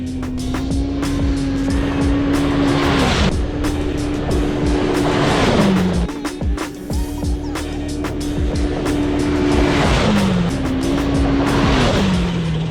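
Polaris RZR Pro R off-road vehicle run hard around a flat dirt track through race and Baja modes, engine droning loud and close with repeated rev rises and drops at shifts, tires scrabbling, no talk.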